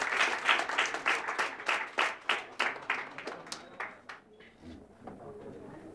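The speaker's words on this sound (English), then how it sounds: "Clap for him," Audience clapping at a cost accounting chapter speech event in Hyderabad, a brief burst of close, lively applause that thins out and fades within a few seconds.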